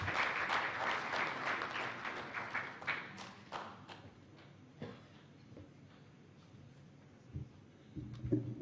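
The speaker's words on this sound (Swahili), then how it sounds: "Makofi kwake tafadhali" Ceremony audience claps for the British High Commissioner at a Tanzanian press freedom day event; dense applause that thins into scattered claps and fades to quiet murmur by the end.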